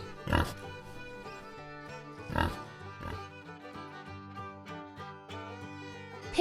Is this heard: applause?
no